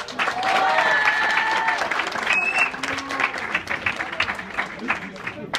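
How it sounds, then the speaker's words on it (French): An audience at a student awards ceremony breaks into applause, dense clapping at first that thins toward the end, with voices and whistles mixed in early. "Beaucoup d'applaudissements, s'il vous plaît."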